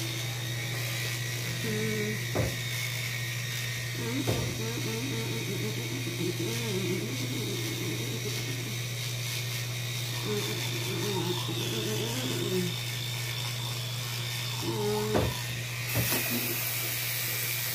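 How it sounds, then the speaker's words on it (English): A new electric toothbrush buzzing steadily while teeth are brushed, a constant close-up hum running throughout with brief mumbled voice sounds and a few bumps over it. "You wondered, yes, I got a new toothbrush"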